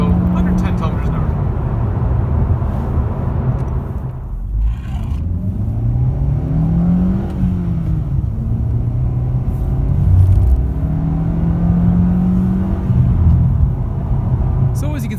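Honda Civic i-VTEC Sport with a 100 hp engine pulling hard in third gear at around 110 km/h in traffic, a steady loud engine rumble and road roar with rising and falling revs, with someone talking over it throughout.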